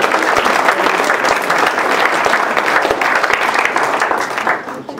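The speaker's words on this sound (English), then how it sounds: "Give her a round of applause." Loud, close applause from a company party crowd at a corporate magic and mentalism show, many hands clapping continuously before tapering off at the very end.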